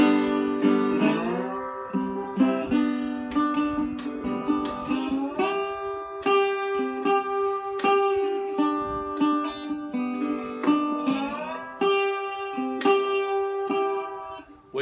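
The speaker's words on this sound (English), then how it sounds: "this is a resonator banjo, but we're going to play it like a resonator guitar or a steel guitar for you." A resonator banjo played slide-style like a steel guitar, with gliding, sustained bright notes and plucked attacks in a steady melodic line, loud and close with no voices.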